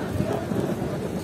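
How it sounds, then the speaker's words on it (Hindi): Rain falls steadily at Babusar Top, a mountain pass, as a dense, continuous outdoor wash with gusty rumble through the whole moment, fairly loud and without clear speech. "यहाँ पे बारिश और मौसम मज़ेदार"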